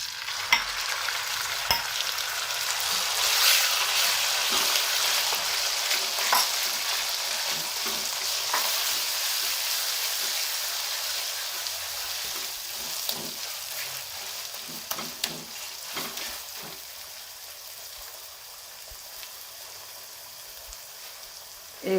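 Half a kilo of chicken mince fries in a pan with lightly browned garlic, a steady close sizzle with crackling pops and occasional stirring scrapes, fading slightly toward the end.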